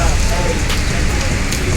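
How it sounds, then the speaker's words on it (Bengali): Rain falls steadily on a surface outdoors in a Bangladeshi setting, a dense continuous patter that fills the whole short stretch at close range with no break. "বৃষ্টিটা দেখে অনেক ভালো লাগতেছে আসলে"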